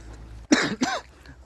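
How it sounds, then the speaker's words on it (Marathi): A person coughs twice in quick succession, close and fairly loud, amid rainy outdoor weather, with quiet surroundings before and after. "मला खोकला पण येतोय लय आज."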